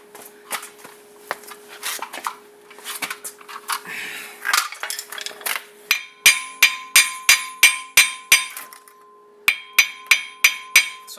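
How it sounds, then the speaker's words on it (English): Metallic hammer strikes on a brake rotor of a 2004 Volkswagen Jetta TDI ring out in a steady series, sharp clangs with bright ringing overtones, a few scattered knocks first, then regular blows with a short pause. "Sometimes if I hammer around it,"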